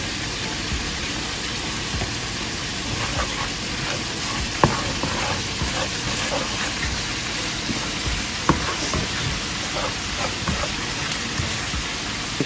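Steady sizzling and stirring in a hot frying pan as flour is sprinkled in for smothered fried chicken gravy, with a few sharp clicks of a utensil against the pan over the constant crackle.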